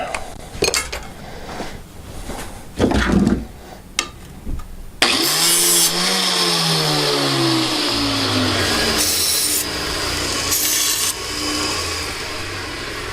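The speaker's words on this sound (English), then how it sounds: "all that noise I was just making, I just cut the tip." Scraping and clattering of metal being worked give way to a loud, steady grinding cut through a golf club shaft tip that whines on for several seconds before stopping.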